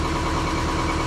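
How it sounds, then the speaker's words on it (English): A sailboat's inboard engine runs steadily with its hatch open, giving a loud, close, unbroken idling rumble and vibration that holds evenly throughout with no speech. "as you can probably hear, the engine's running."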